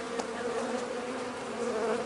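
Honey bees buzz steadily inside a hive around their queen and the nurse bees, a dense, continuous close-up drone with no pauses.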